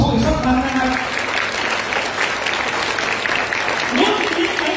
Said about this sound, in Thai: ปรบมือขอบพระคุณพี่น้องสอชอีกสักครั้งนะครับ